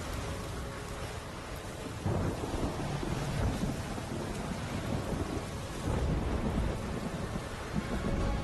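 Thunderstorm inside a video game: steady heavy rain hiss with deep rolling thunder swells, loud and continuous with no talk over it.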